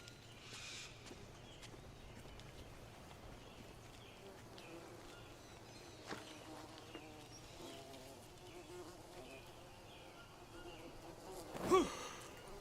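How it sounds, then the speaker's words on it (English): Bees buzz around a nest in the jungle survival game Green Hell, a faint steady insect drone running under quiet ambient game sound, with one brief louder rustle near the end. "I heard the bees, so I gotta go back the other direction."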